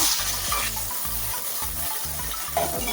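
Shallots, garlic, ginger, tomato and green chillies sizzling in hot oil for a crab gravy, with a loud crackling fry and rhythmic stirring scrapes repeating roughly every half second.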